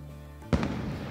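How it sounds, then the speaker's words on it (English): Fireworks in the video game Sonic Frontiers, a single sharp bang followed by a crackling, fading burst over a low in-game background hum. "Fireworks?"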